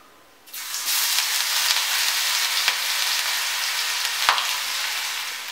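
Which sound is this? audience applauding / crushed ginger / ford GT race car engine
crushed ginger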